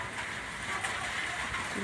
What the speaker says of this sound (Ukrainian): Ну, дощик, давай, давай, давай.